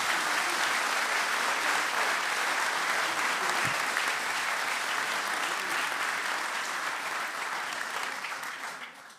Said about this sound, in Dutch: Mag ik een heel hard applaus voor Kees Holtkamp.